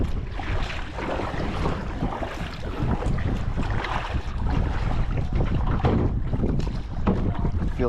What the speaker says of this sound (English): Feel the wind's coming up.